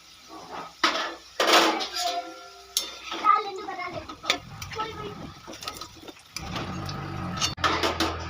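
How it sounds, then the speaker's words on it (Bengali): Metal utensil clinks and scrapes against a frying pan at irregular intervals, close up, lifting fried potatoes out of oil, with quieter rattling and faint sizzling between. "এবার আলুগুলো ভাজা হয়ে গেছে আমি তুলে নেব"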